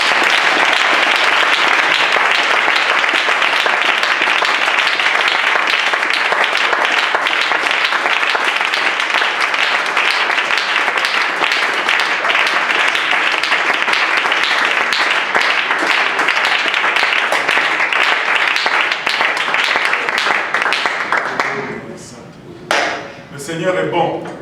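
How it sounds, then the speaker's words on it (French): A church congregation claps in dense, loud applause that holds steady for about twenty seconds, then thins out into scattered claps and murmuring voices at the end. "Est-ce qu'on peut l'applaudir?"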